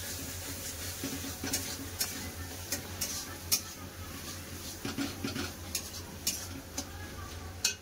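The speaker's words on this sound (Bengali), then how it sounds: "গুঁড়া মশলা দিয়ে ভালো করে কষে নেবো।" Ground spices with cumin paste and chopped tomato stir-fried in a pan for a potato and meat curry, giving a steady faint sizzle with soft scraping stirs and light clinks of a spoon against the pan.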